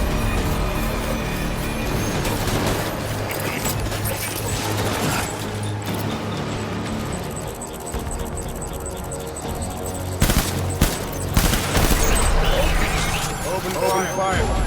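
Scattered gunfire from the video game Death Stranding under a busy mix of vehicle rumble and talking, with a few sharp louder bursts near the end.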